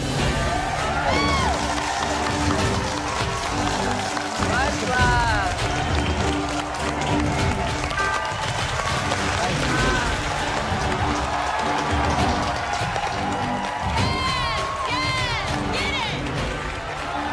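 Returning contestants in the MasterChef kitchen cheer during the season finale, with bursts of clapping, whoops and shouts from a crowd while people talk over the noise.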